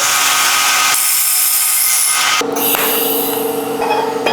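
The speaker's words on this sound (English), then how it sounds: "then I'll be able to get it into the saw how I need it to be to cut the mitre" A power saw cuts a mitre through a steel tube with a short tack-welded stub for grip, giving a loud, steady high-pitched grinding whine that shifts in tone partway through as the blade bites deeper, with no talk.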